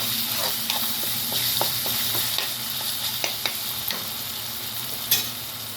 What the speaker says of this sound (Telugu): అల్లం వెల్లుల్లి పేస్ట్ బాగా వేగాలి, పచ్చివాసన పోయేంత వరకు బాగా ఫ్రై అవ్వాలి